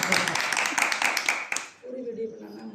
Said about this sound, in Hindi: तालियों की सेवा करिए भाई।